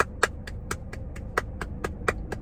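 A single person's hands clap in a quick, steady rhythm, with sharp close claps about four or five per second and no voices.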